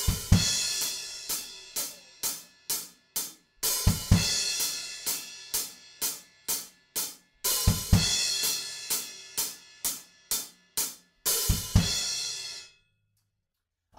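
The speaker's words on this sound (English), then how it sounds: "we have a sizzle on beat 4, kick, kick into beat 1 and a crash" A drum kit plays a driving pattern with a sizzle cymbal, paired kicks and crashes: rapid bright cymbal hits with low thumps recurring every couple of seconds, close and loud, ending in a sudden stop.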